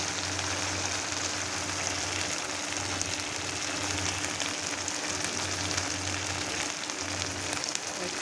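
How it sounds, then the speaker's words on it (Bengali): Spice paste being fried down with water and turmeric in a pan, a continuous even sizzle like light rain with a low steady hum beneath, no voices. "আমি জল দিয়ে একটু ভালো করে মশলা কষায় নেব"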